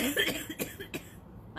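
A few short cough-like bursts in quick succession, close and moderately loud, trailing off into quiet.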